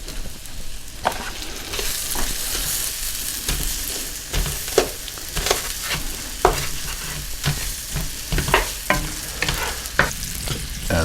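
Onions frying in melted butter in a pan give a continuous crackling sizzle, punctuated by sharp spatula scrapes and taps that come faster toward the end.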